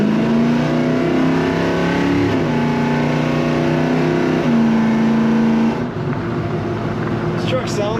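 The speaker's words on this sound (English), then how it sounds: "This truck sounds like it's ready to race. It has a great exhaust sound." A 1970 Chevrolet C10 pickup with an automatic on the column runs with a loud, throaty exhaust, its engine revving in steady, sustained pulls that rise and settle before easing down.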